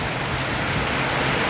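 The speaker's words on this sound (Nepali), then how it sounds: "एकदमै हावा पनि मजाको चलिरहेछ, पानी पनि मजाको परिरहेछ" Heavy rain pours with wind in a steady, dense hiss of drops striking surfaces, loud and continuous throughout.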